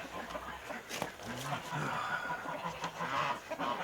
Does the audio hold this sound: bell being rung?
no